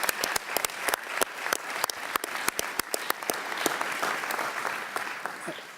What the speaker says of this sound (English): join me in a big round of applause for those speakers